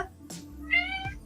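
A person imitates a cat's meow in a short, nasal two-part call, close and clear, over a quiet background.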